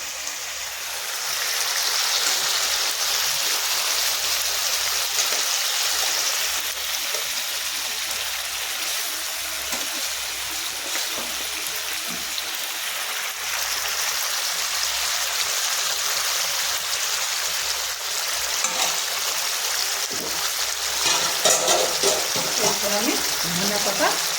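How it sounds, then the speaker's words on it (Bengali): Fish dropped into boiling curry for an Assamese sour fish recipe gives a steady, loud bubbling sizzle that runs continuously throughout, with faint stirring clatter near the end. "বন্ধুরা আমার ঝোল ফুটে গেছে আমি এবার মাছগুলো ছেড়ে দেবো"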